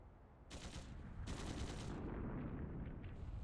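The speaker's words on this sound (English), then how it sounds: "Gunshots! From the next district!" Gunfire in the video game Trails Through Daybreak 2, heard as two loud bursts of rapid shots, followed by a sustained heavy rumble that stays loud to the end.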